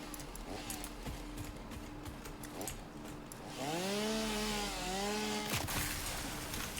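A chainsaw in the video game Satisfactory whirs at moderate volume, then its revving tone bends up and down in pitch before a sharp crack cuts through near the end.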